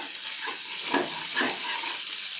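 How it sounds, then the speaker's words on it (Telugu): Egg frying and being stirred in a hot pan while making egg fried rice, a steady soft sizzle with a few scraping stir strokes, close and moderately quiet, no talking. "ఎగ్ని బాగా ఫ్రై చేసుకోవాలి."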